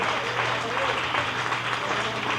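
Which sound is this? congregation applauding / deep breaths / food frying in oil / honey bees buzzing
congregation applauding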